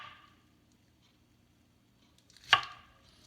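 A knife slices through a mango, making one crisp cut after a near-silent pause, close and fairly quiet.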